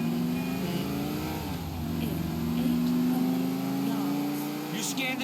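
A car engine in the video game GTA IV drones steadily with rising and falling revs, a continuous motor hum at moderate loudness with faint sounds on top.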